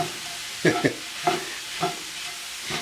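Spoon stirring tomato sauce into bison bolognese in a pan, several separate scraping strokes with a light sizzle in between, close and alone.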